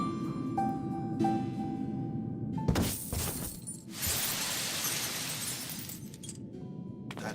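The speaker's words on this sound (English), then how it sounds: "That's the sound of treasure" A treasure reward chime from the Final Fantasy XIV video game plays as a bright, shattering glassy burst that rings out over steady game music and ambience, followed by a sustained shimmering wash.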